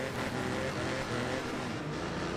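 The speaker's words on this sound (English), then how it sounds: "I need to talk and hear my voice over the engine noise" Race car engines in the demolition racing video game Wreckfest, a constant grating motor roar filling the whole stretch, steady and fairly loud with no voices over it.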